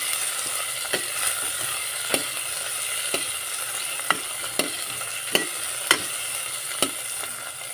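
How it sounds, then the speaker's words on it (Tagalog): Ingredients for adobong pusit sauté in a hot pan under a steady close sizzle, while a utensil stirs and taps against the pan roughly once a second. "Isahin na muna natin ang ating ingredients guys."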